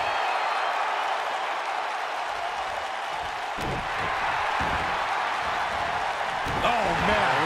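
Arena crowd noise from the wrestling video game WWE 2K19, a steady loud roar of cheering throughout with scattered thuds and claps, under a commentator speaking.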